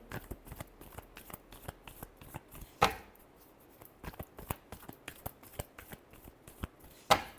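Tarot cards are shuffled by hand in quick, crisp riffling flicks with two louder snapping bursts, close and fairly quiet, with no voices.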